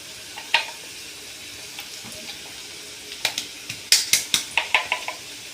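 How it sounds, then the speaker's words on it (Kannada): Onions frying in a pan with roasted ground spices added, on low gas flame: a soft steady sizzle underneath, then a quick run of sharp, close clinks as a spoon stirs and scrapes the pan. "ಈ ಈರುಳ್ಳಿಯನ್ನು ಹುರಿದಿರ್ತೇವಲ್ಲ ಅದಕ್ಕೆ ಆಗ ಪುಡಿ ಮಾಡಿದಂಥ ಹುರಿದ ಸಾಮಾನನ್ನು ಈರುಳ್ಳಿಗೆ ಹಾಕೋದು"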